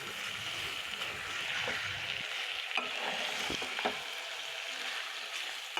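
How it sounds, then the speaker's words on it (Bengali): Marinated desi chicken sizzles steadily in hot oil as it is stirred, with scraping clicks from the utensil against the pan rising over a continuous close frying hiss. "এখানে আমি মাংসটা দিয়ে ভালোভাবে এবার নাড়িয়ে চাড়িয়ে নিচ্ছি"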